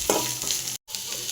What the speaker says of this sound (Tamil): பூண்டு நல்லா வணங்கினோடனே வெங்காயம் கொஞ்சம் போட்டுக்கலாங்க.